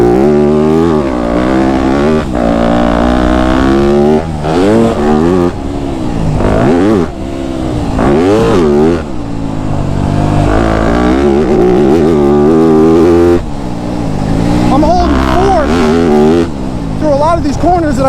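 Yamaha YZ250F dirt bike engine revving hard and repeatedly up and down through the gears on a track, loud and close, with the rider's voice occasionally audible over the engine.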